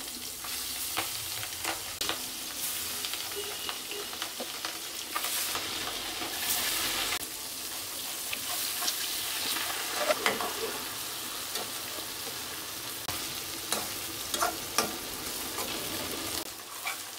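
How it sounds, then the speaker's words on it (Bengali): Lobster prawns frying in a pan on a stove, with a loud continuous hiss and crackle of oil, occasional stirring scrapes and brief bursts of sharper spattering. "আমি খুব সুন্দর করে মাছ ফ্রাই করে নিলাম।"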